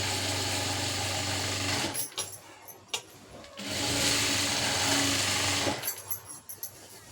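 An electric sewing machine stitching a fall onto a saree, running in steady whirring bursts that stop and restart with pauses and small clicks between, close and fairly loud.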